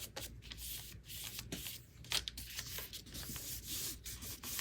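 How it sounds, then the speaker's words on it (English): Folded paper is burnished with a bone folder in a Halloween junk journal, giving continuous soft rubbing and scraping strokes in a steady back-and-forth rhythm, close and fairly quiet. "And again, I burnish it well."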